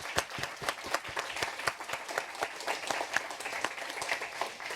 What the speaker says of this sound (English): A big round of applause for Jakob Steensen.